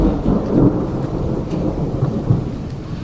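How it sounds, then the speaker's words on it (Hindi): Heavy rain pours down steadily with a low rumble of thunder, a dense wash of falling water heard outdoors without any voices. "ये देखो भाई, तगड़ी बारिश हो रही है।"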